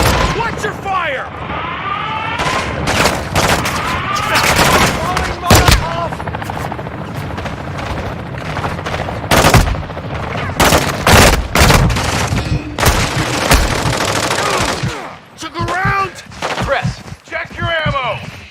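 Gunfire in Call of Duty Modern Warfare 2 DMZ, with dense bursts of automatic fire and booming shots crowding the scene, mixed with shouted voices and other battle noise and a brief lull near the end.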